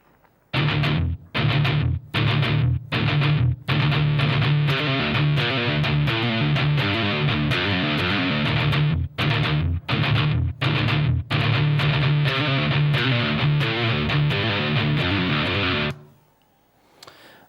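Both parts of a distorted electric guitar riff are played back to back, with loud sustained chugging passages broken by short rhythmic stops. The riff ends abruptly near the close.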